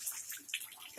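Water splashing and running in a bathtub during a child's sponge bath, soft and close with uneven trickles and splashes, while a voice speaks briefly.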